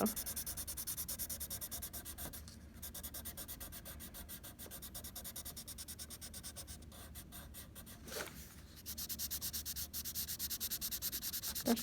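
A pencil scrapes in a sharpener with a quiet, steady rasping grind, faint and close, with a short pause near the end before the scraping resumes.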